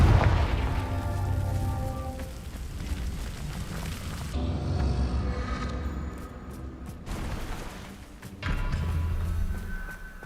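Confringo fire-spell blasts in Hogwarts Legacy land as a string of deep, rumbling booms and bursts, loud and close, with crackling debris between impacts and no talking.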